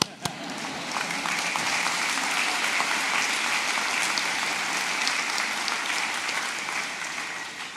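Sustained applause fills a commencement ceremony crowd, a dense, even wash of many hands clapping that holds steady for several seconds, with a sharp single clap near the start.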